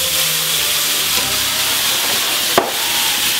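Flank steak with shallots, crushed pepper and cognac sizzles in a hot pan, a steady broad hiss throughout with one sharp clack near the end.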